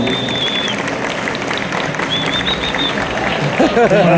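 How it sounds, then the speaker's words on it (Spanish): Audience applause at a Comicon Guatemala panel, broad crowd clapping and murmur filling the room, with voices and a brief whistle-like tone over the noise, swelling slightly near the end. "Aplauso, aplauso"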